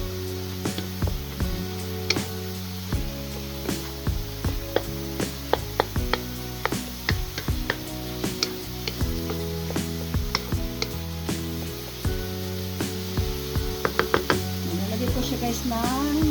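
A spoon or ladle stirs dinuguan, a Filipino pork stew, in a pot, with repeated clinks and knocks against the metal over a low simmering hiss, close by, while a voice speaks now and then.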